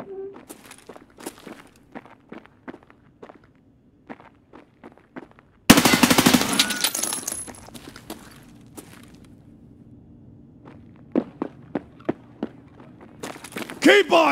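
Gunfire in the video game Escape from Tarkov: bursts of sharp automatic shots, close and loud, break out amid footsteps and scattered single impacts, with a voice talking over parts of it.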